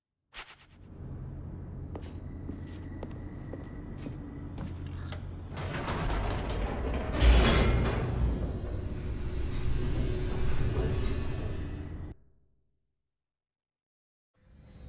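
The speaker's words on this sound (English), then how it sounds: "The elevator raced downward, plummeting towards an unknown fate." Elevator descending in The Stanley Parable, a steady mechanical rumble and creaking hum that grows louder and busier midway, then stops abruptly, leaving near silence before a faint sound at the very end.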